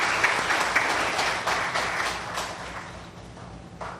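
Applause from a temple audience for the drummers at an evening Mahabharat yagna, a broad wash of clapping that swells early and fades toward the end, with no talk over it.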